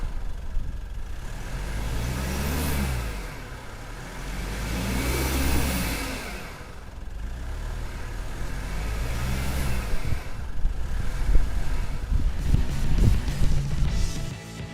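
A Toyota HiLux or Mitsubishi L200 pickup struggles off-road with three wheels spinning, its mid-pitched engine revving up and down in repeated loud surges, close by and with no talk.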